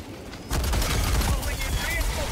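Grenade explosion in Helldivers 2, a sudden loud blast cutting in after a quieter moment, followed by rumbling debris and scattered gunfire, with people talking underneath.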